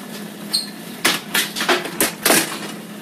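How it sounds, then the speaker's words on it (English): Someone rummages in a kitchen drawer for a small soup blender, a few sharp clatters and knocks of utensils and objects shifted in uneven bursts, close and fairly loud. "I've got to get down in this drawer"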